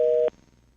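Telephone busy signal heard over a radio call-in line after a caller drops, a single short steady tone that cuts off abruptly, leaving faint line hum.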